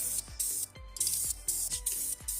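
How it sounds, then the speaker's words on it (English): Krylon Ultra Black spray paint hisses from an aerosol can in a series of short, loud bursts, each separated by a brief pause and a faint rattle, with no talking. "I use my favorite spray paint to spray paint this"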